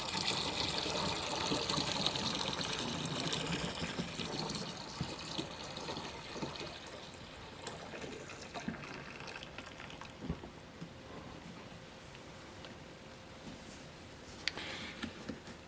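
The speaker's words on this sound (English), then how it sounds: "we'll get some fresh water in and mix that up and add that to the carboy, or to the fermenter." Fresh water pouring and splashing during home winemaking of a Stags Leap District Merlot kit, filling a fermenter: a continuous, steady rushing gush with small bubbling splashes, close and moderately loud, with no talk.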